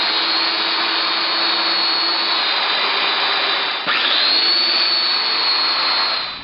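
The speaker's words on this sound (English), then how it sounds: "I cut the mortises for both my breadboard and butcher block" Festool Domino joiner cutting mortises in butcher block, a loud steady high-pitched motor whine with dust extraction, dipping briefly once as the cutter plunges and then resuming before winding down.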